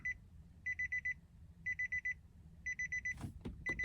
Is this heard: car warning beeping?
yes